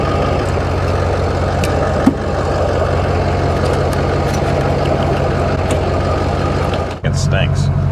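A farm truck engine idles steadily with a low, even rumble just after a fuel filter replacement, holding constant loudness with a brief dip near the end.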